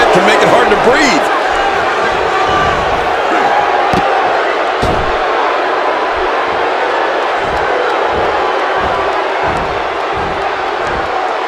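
A sold-out wrestling arena crowd in the video game WWE 2K17 roars steadily and loudly throughout, with sharp slams and impact thuds of the match cutting through the din at irregular intervals.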